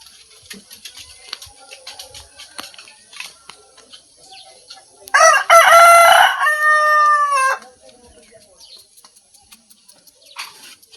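A rooster crows loudly once, a long strained call standing out over quiet background with faint scattered clucks and rustling before and after.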